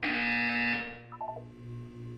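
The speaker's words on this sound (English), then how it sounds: "When you hear the buzzer, look down at the floor." A loud electronic buzzer blares in the Portal 2 video game for about a second before giving way to fainter beeping tones and a low hum.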